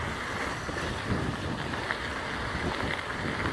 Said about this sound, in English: And it's fairly windy.